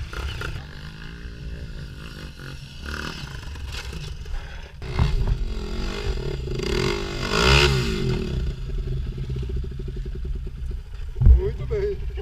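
A CG 125 motorcycle on a dirt trail revs and rises in pitch in short bursts, its engine note rough and uneven, with people talking over it throughout.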